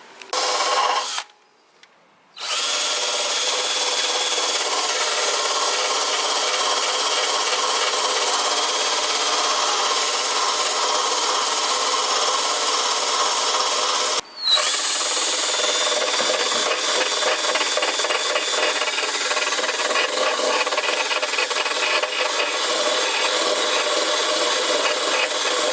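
A power tool stripping paint from a metal Honda Civic engine block being built for 500 hp with new sleeves, a loud continuous grinding whir running almost the whole time, broken by one short stop near the start and a brief dip midway.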